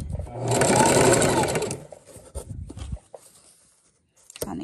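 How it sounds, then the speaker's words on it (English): A home sewing machine stitches an invisible zipper in a steady, loud whirring run that stops after about two seconds, followed by quieter handling noises and a brief restart at the end. "I'm gonna press the foot down and then we're gonna start sewing"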